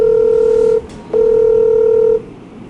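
Telephone keypad tones sound while a call is placed: two loud, steady beeps, the first about three-quarters of a second, then a short gap and a longer second tone, over faint background hiss.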